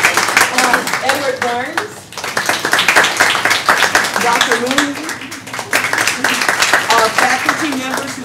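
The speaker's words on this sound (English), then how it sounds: "Give a round of applause" Audience applause at a talk on social media and change, honouring faculty members who brought students; scattered clapping runs under a voice reading out names throughout.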